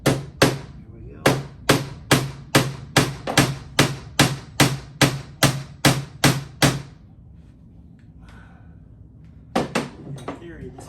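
A hammer strikes repeatedly while punching out pieces during disassembly of a twin pedestal desk, about fifteen loud, evenly spaced close blows, then a pause and two more hits.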